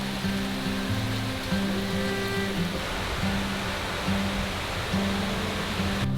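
Steady rain on a mountainside, falling as a constant hiss from start to finish, with a faint low droning tone running underneath.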